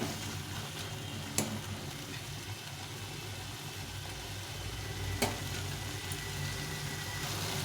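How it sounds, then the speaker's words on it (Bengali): Boiled soybean chunks and masala frying in a pan, a steady, fairly soft sizzle running throughout with a couple of sharp clicks from stirring. "সেদ্ধ করে রাখা সয়াবিনটা দিয়ে দিলাম দিয়ে এটার সঙ্গে ভালো করে কষিয়ে নেব"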